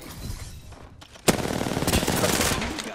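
Gunfire in Apex Legends, a dense rapid burst of automatic shots that starts suddenly and stays loud, with quieter game noise just before it.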